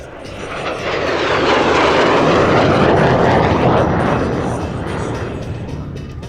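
A MiG-17F jet on afterburner passes at a night air show with a loud, broad roar that swells, peaks mid-pass and then fades as it moves away.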